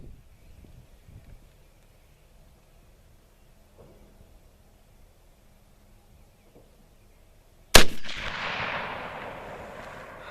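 A single loud shot from a Lee Enfield SMLE No1 Mk 3 rifle cracks out after a long quiet stretch, followed by a rumbling, low echoing tail that slowly fades outdoors.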